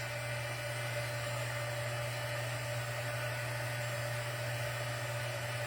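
A heat embossing tool blows hot air over a paper craft card, a steady, loud, even whirring hum that holds unchanged throughout with no talk.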